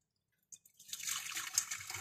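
Boiled water strained for green juice starts after a half-second silence, a soft splashing trickle building into a steady close pour with light dripping, quiet and alone.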